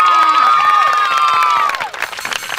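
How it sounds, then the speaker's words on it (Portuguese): An outdoor park crowd at a clown show applauds and cheers for a child, loud sustained clapping mixed with high shouts and whoops that fade after a couple of seconds. "Você vai levar de presente uma salva de palmas."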